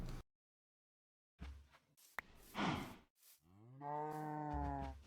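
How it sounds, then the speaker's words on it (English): Baby cow in the Minecraft video game giving a few short moos, with a whoosh and a brief gap of silence before a clear, drawn-out moo near the end. "Oh, that is a cute little cow baby."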